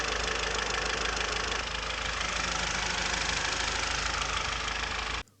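An Audi TT engine idles during a home service after an oil top-up, a steady close mechanical hum with a light ticking knock, running evenly before cutting off abruptly.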